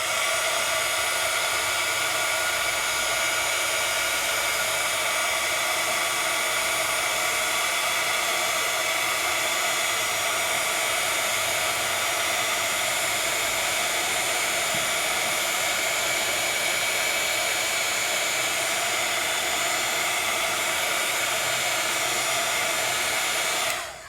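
Continuous steady whoosh of a heat tool blowing hot air to melt gold embossing powder on paper die cuts, a constant broadband hiss running the whole time with no talking.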